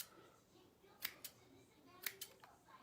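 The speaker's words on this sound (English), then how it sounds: "Now I'm going to get my scissors and I'm just going to start trimming." Scissors trimming craft material, heard as a few crisp, quiet snips that fall in two pairs about a second apart in an otherwise hushed room.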